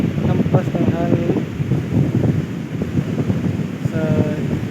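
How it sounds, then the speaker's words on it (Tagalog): Wind buffets the microphone in a constant roar by the sea, with a voice speaking underneath the rushing noise. "Malakas ang hampas ng hangin"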